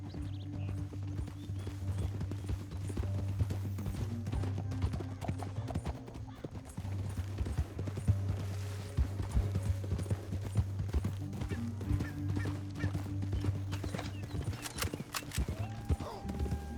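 Horse hooves clip-clopping at a walk in the video game Red Dead Redemption 2, a steady close rhythmic clatter over a low droning score, with a brief whinny and occasional voices.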